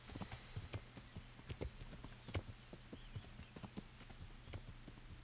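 Irregular hoofbeats of a horse walking through a dense forest in Kingdom Come: Deliverance, quiet and close, with a low steady hum underneath.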